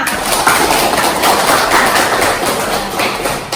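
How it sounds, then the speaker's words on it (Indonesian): Students in a classroom applaud together, producing a loud, dense wash of steady clapping that holds evenly throughout before tapering slightly at the end. "Tepuk tangan untuk kalian semua."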